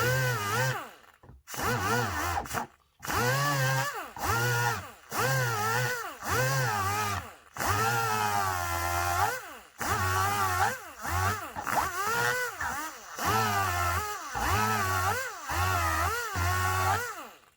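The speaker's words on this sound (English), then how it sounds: "I got the die grinder out." A die grinder cuts into the broken plastic handle of a power saw, giving close, repeated whining bursts that rise and fall in pitch with brief pauses between passes.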